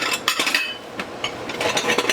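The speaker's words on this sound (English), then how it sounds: "Let's get a little dish here." A small dish set down and handled in a home kitchen while baking coconut bread, a few close clinks and knocks scattered over a soft background hiss.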